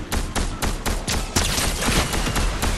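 Rapid bursts of enemy gunfire in Fortnite, loud repeated shots cracking in quick succession and close by, with no speech over them.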